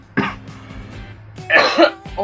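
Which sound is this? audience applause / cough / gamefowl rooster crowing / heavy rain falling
cough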